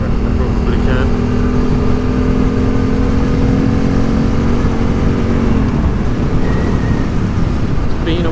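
A big adventure motorcycle rides off-road along an easy gravel track in the Pyrenees, its engine droning steadily and loudly with a constant rumble and wind roar, close up and continuous throughout.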